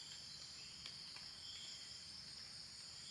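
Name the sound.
cicadas chirping at a morning campsite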